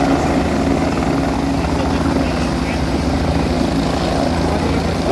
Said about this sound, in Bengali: বলতে বলতে আর একটা হেলিকপ্টার চলে এসছে